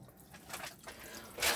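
Water running from the open hot-side taps of a 2019 Bailey Unicorn Cabrera caravan, a quiet steady splash and trickle that swells louder at the end, with no voices.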